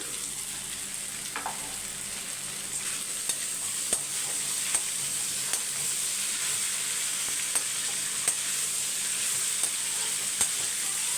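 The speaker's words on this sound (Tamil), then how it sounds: "உருளைக்கிழங்க வதக்கி விட்டுட்டு ஃபாஸ்ட்டாக தான் வைக்க போகிறேன்" Potatoes sautéing in a pan, a steady moderate sizzle with a few light clicks of stirring at intervals, close by and without speech.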